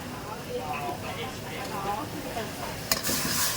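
Garlic and chillies stir-frying in a pan give off a dense, continuous sizzle under a person talking, with a sudden metallic clank from the pan near the end.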